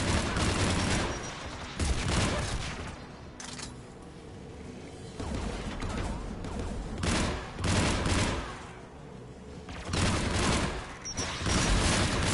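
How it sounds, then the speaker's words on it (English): Geth anti-aircraft guns firing in Mass Effect 3, heavy repeated bursts of gunfire in waves, loud and close, with short lulls between volleys. "The Geth anti-aircraft guns are up ahead."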